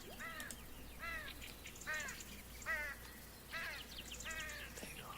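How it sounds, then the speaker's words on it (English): A bird calls outdoors with about six harsh, crow-like caws spaced roughly a second apart. The calls are faint and distant over a quiet background. "You guys hear that bird?"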